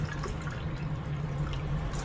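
Water runs into a measuring cup in a home kitchen while preparing Japanese pork with daikon and miso, a steady trickling pour with a faint drip, close and continuous, no talking.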